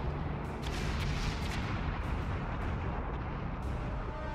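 Naval guns fire in a battle in the video game World of Warships, with several Atlanta cruisers on one team: a dense, continuous roar of rapid booming salvos, loud and close, with no break across the stretch.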